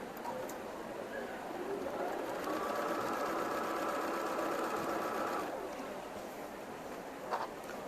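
Sewing machine running steadily as it stitches the seams of a quilt block at a quilting festival demo, a continuous mechanical whir with brief pauses, heard over faint background chatter of a busy hall.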